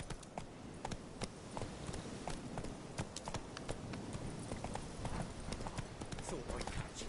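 Roach, Geralt's horse in The Witcher video game, gallops in a fast, steady rhythm of hoofbeats over loose ground, close and continuous for several seconds with faint game ambience underneath.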